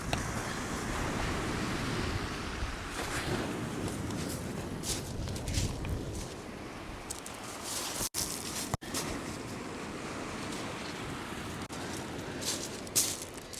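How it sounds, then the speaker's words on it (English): Wind and surf roar steadily on the beach at Shoreham in torrential rain, broadband and continuous with gusts buffeting the microphone and a couple of sharp knocks partway through. "Whoa, the wind."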